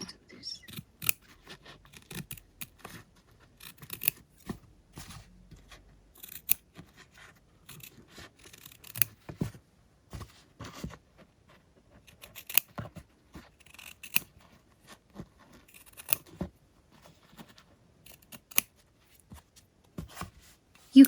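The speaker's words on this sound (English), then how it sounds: "Now I grab smaller scissors and I just do this." Small scissors snip repeatedly in quick irregular bursts of sharp clicks, close and fairly quiet, with brief pauses between runs of cuts.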